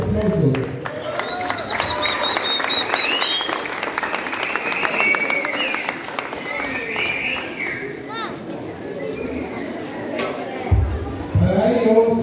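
Loud, warm crowd applause for philharmonic bands at a band audition and basketball inauguration in San Miguel Albarradas, a sustained clapping roar that thins toward the end, with chatter and voices over it.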